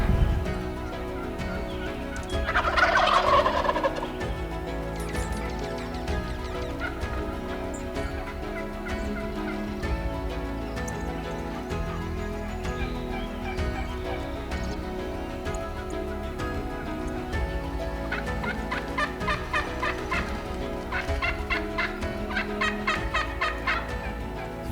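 Wild turkeys roosting in trees gobble loudly and repeatedly in the dark, answering one another back and forth from several directions over steady outdoor ambience.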